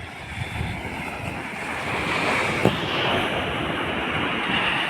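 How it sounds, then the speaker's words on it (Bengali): Sea waves roll onto a Kerala beach where people fish and bathe, a continuous broad hissing wash of surf with a slow swell in loudness, mixed with wind noise on the microphone. "সুন্দর একটা ঢেউ"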